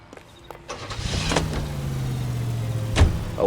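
A car in the L.A. Noire game starts up with door and mechanical clunks, then settles into a steady engine drone that rises slightly, closing with another clunk.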